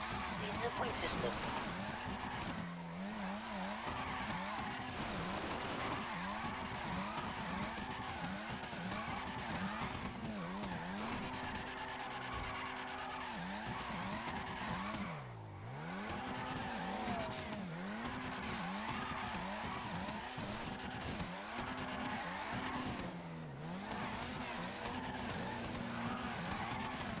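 Cars drift at an illegal drift event in GTA 5, with continuous engine roar and repeated tire squeals rising and falling throughout, loud and steady, under occasional voices.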